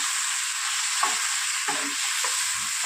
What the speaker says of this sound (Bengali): তো চলুন এটাকে ভালো করে আবার কষিয়ে নিই।